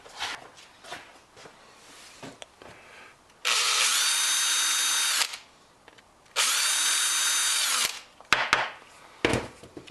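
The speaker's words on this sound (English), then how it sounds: "I'm just going to run a drill through them and open them up a little bit" A power drill whines in two sustained bursts of a few seconds each, boring out holes in metal on a John Deere weed whipper, separated by clanks and handling noises of metal parts.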